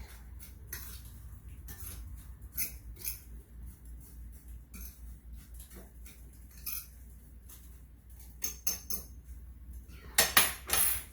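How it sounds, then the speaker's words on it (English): Utensils scrape and tap against a bowl while breadcrumbs are mixed with salt and pepper, a string of faint, irregular clinks and scrapes up close, with a louder clatter near the end. "I like to add a little bit of salt and pepper to my breadcrumbs. And we're going to mix it all up."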